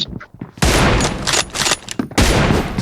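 Loud gunfire from the mobile battle-royale game PUBG Mobile, bursts of automatic shots in quick succession with short gaps, close and dominant, with no talk over it.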